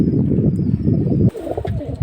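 A Pakistani pigeon held in the hand coos and flaps its wings, giving a dense, close rustle of feathers that drops away briefly before scattered flutters resume.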